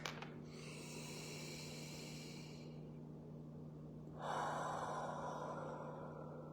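Deep belly breaths are drawn through the nose into cupped hands, an inhale and then a longer, louder exhale, soft and close over a faint steady hum.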